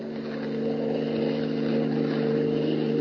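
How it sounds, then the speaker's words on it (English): A car motor approaches fast from a distance, a steady droning hum that swells gradually in loudness over a few seconds, with no talking. "His keen hearing detects an approaching motor"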